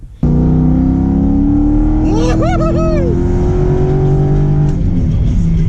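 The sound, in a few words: Corvette C5 accelerating on a nitrous hit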